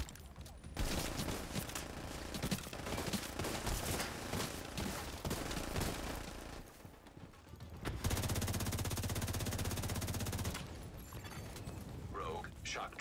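Heavy automatic gunfire in the video game The Division 2, long continuous bursts of rapid shots, loud and close, with a brief lull midway and game voices faintly mixed in.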